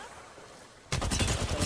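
Pistol fire in Apex Legends erupts suddenly after a quiet stretch, a rapid string of close, loud shots that continues to the end.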